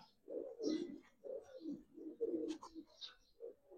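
Giribaz and coloring pigeons of an old bloodline coo close by, a series of soft, low throaty calls in uneven rhythm, some higher faint chirps between them and no talk.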